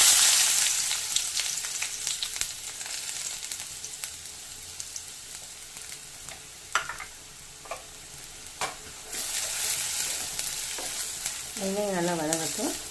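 Chopped large onion sizzles and fries in a pan for veg bread masala, a steady close crackle broken by stirring scrapes and clinks of a spoon, with no talking.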